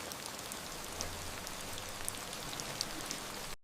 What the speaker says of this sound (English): The rain was coming down hard that Tuesday evening